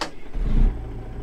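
A new truck's engine in American Truck Simulator turns over and settles into a deep, close idle, a loud low rumble that swells briefly and then holds steady.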